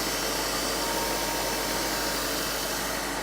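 Diesel engine idling at low speed during a DPF and emissions cleaning service, a steady, continuous mechanical hum held close and even throughout with no talk.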